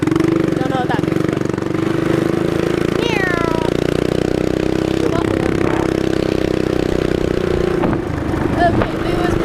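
Small minibike engine running steadily while riding along a busy road, a loud constant buzzing drone close to the rider, with someone talking over it.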